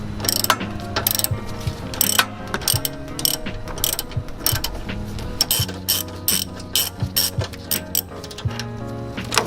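Hand ratchet loosening a bolt holding the original radiator of a Mazda Miata, a rapid run of close, crisp clicking strokes in uneven bursts with brief pauses between pulls.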